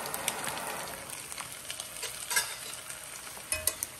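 Eggs frying in a pan on an electric cooker powered by a portable battery station during a power outage, giving a steady close crackling sizzle with scattered pops and a few sharper clatters near the end.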